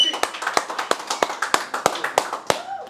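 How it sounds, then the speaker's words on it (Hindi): In a Red FM radio studio, a small group claps to welcome actor Kunal Khemu, about a dozen sharp, close hand claps in a quick, fairly even rhythm, ending with a short vocal sound. "जोरदार तालियां, सीटियां, आवाजें कुणाल खेमू के लिए।"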